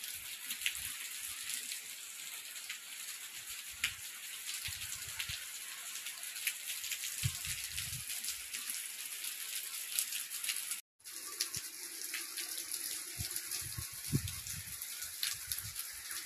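Heavy rain pours into a home courtyard, a steady dense hiss of falling water with scattered louder drips and splashes, continuous throughout with one brief dropout near the end.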